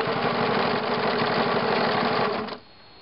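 A sewing machine stitching a liner, a fast, steady mechanical whirr running loud and close for over two seconds before stopping abruptly.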